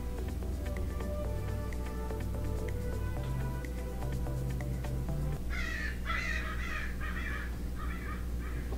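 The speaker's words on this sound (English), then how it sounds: "we got some crazy birds going on out there" Crows caw outside in a run of five or six harsh, evenly spaced calls, heard through steady indoor background noise in the second half.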